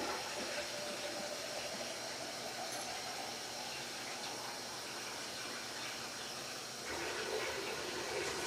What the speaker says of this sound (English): Here she got some when I turned the water on full blast.